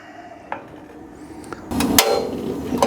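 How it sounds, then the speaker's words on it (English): A propane griddle burner on an Aldi griddle lights: two faint igniter clicks, then a sudden loud whoosh and crackle as the gas catches, settling into a soft steady roar. "I hear fire"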